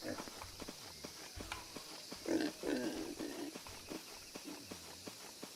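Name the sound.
pigs grunting in a video game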